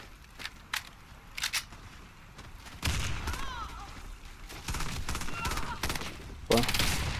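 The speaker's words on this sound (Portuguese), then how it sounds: "O Black chegou aqui metendo bala em todo mundo" Gunfire in the video game Warface, with an FN SCAR-H: sharp separated shots early on, then dense rapid fusillades that build to a loud closing burst, with voices talking over parts.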